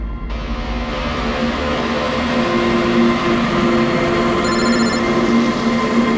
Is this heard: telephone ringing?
yes